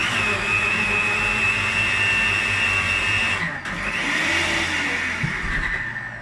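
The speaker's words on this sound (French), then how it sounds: "Et là, je vais mixer." A blender mixes raw sesame hummus with a loud, continuous whine that dips briefly as the motor is stopped and restarted, then labours on as the thick paste churns, close up and with no talk.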